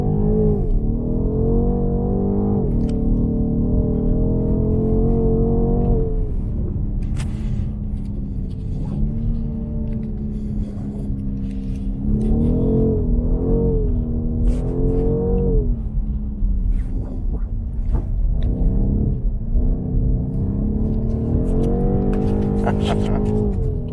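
A BMW M850i xDrive Coupé with 530 hp pulls hard from inside the cabin, its engine note rising and falling through repeated surges of acceleration, loud and close, with brief tyre and road noise.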